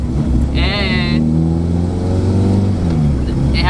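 A car engine drones loudly from inside the cabin, a steady low hum with shifting tones while someone talks over it.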